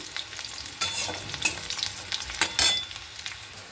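Winter vegetables fry in oil in a pan, giving a quiet, sparse crackle with a few brighter pops and stirring sounds, and no voices.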